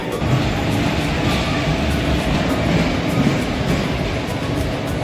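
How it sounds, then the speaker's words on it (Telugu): A steady, loud rumble of a train departing Kurnool, rolling along the tracks, broad and continuous with faint rhythmic clatter throughout. "సో ఫైనల్గా మన ట్రైన్ అయితే కర్నూలు నుంచి బయలుదేరిపోయింది"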